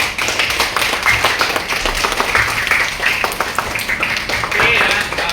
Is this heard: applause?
yes